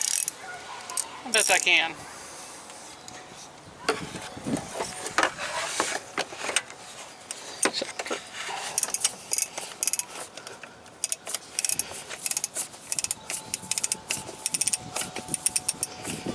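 A socket wrench snugs down an oil pressure switch on a Pontiac Vibe or Toyota Matrix engine, giving close, irregular ratcheting clicks and small metallic clinks, with someone talking over parts of it.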